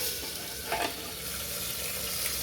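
Broasted chicken pieces fry in an opened pressure cooker, giving a steady loud hiss and sizzle that fills the whole stretch, with a brief stirring rustle partway through.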